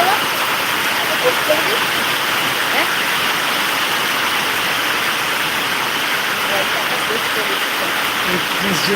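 Rain falls on leaves in a steady, dense wash of noise, continuous and even throughout with no pauses.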